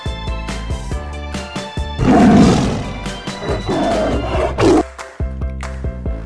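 A toy tiger lets out a loud recorded roaring sound effect, several rough roars over a few seconds, with electronic toy jingles before and after.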